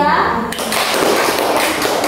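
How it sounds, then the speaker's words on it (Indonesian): Classmates in a school religious-education lesson clap for a student group; there is a brief bit of voice first, then a dense, close burst of hand clapping that continues to the end. "Kasih tepuk tangan untuk kelompok 3"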